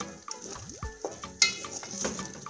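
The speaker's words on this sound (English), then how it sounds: "I'll just put in some coriander, stir this up" A spoon scrapes and taps against a pan as coriander is stirred into vegetable Manchurian, with soft clinks and faint background noise, close and fairly quiet.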